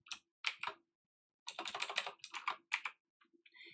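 Close computer keyboard typing as programming code is entered, with bursts of rapid clicking keystrokes separated by brief pauses and no voices.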